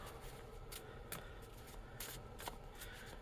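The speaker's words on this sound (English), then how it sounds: "So I'm going to give the gamble cards a shuffle" A deck of baseball game gamble cards is shuffled by hand, a close, quiet run of riffling bursts with brief snaps in between.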